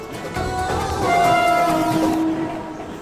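A passing Mumbai local commuter train rumbles loudly, its long horn blaring twice over steady rolling rail noise.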